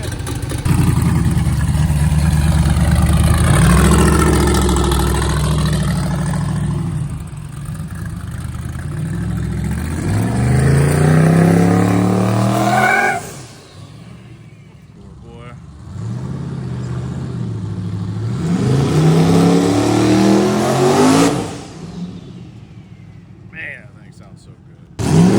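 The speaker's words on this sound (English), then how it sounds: "That's that ATD motor, though." A truck with an ATD motor revving, loud engine roars rising and falling in repeated bursts with quieter idle stretches between, while people talk over it.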